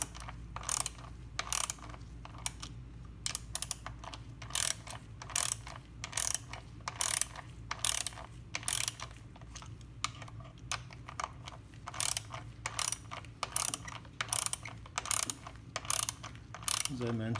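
A ratchet tightens the chain tensioner bolts on a Porsche 911 964, giving a steady run of close, sharp metallic clicks in short repeated bursts, with brief pauses between strokes and no talking.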